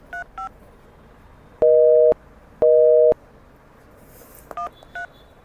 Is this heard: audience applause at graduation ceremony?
no